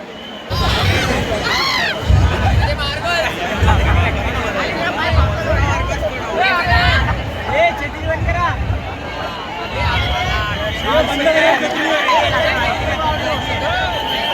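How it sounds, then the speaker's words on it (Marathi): A dense Ganpati festival crowd murmurs and shouts all around in the rain, many overlapping voices forming a loud, constant babble with occasional rising cheers. "गर्दी आहे खूप एकदम खूप गर्दी आहे."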